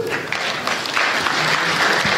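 Audience applause at a Shift Challenge 2015 prize announcement, a dense, steady burst of many hands clapping that fills the room at moderate loudness.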